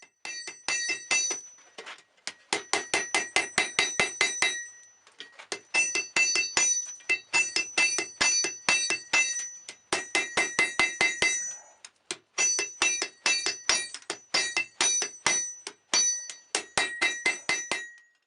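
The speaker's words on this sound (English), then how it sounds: "I mark it on the anvil instead and then use my hammer to transfer it to the hardy tool." Rapid bursts of hammer blows ring out on hot steel over an anvil hardy tool while forging a hunting knife, bright metallic clangs in quick rhythmic volleys separated by short pauses, close and loud with no talking.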